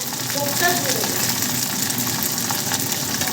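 Curry leaves stirred into chutney and batter for rice dhokla, giving a steady close sizzle and frying hiss with faint stirring scrapes, constant in level throughout, with no talk over it.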